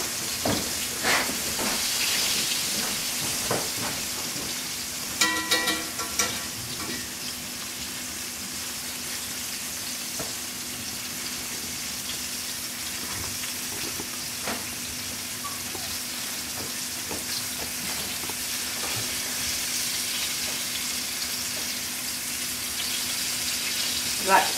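Food sizzles steadily in a skillet at home, a continuous near hiss with a few clicks and clatters of the pan.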